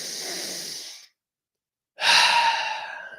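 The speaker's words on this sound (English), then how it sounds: "Deeply in and out. Continue at that breathing pace." Slow, deep breathing during a breathwork exercise: a long breathy exhale through the mouth, a second of silence, then another strong airy breath, close and alone.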